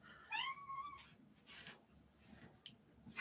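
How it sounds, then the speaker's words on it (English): A kitten gives one faint, short rising-falling meow early on, followed by quiet shuffling and light rustles nearby. "That's my kitten right there."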